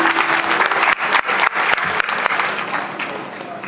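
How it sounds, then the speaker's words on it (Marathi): Crowd applause at a teachers' award ceremony in Shirdi, loud dense clapping across the whole stretch with a few brief dips, a faint voice sounding low underneath early on. "कडकडीत टाळ्या झाल्या पाहिजेत, कडकडीत टाळ्या"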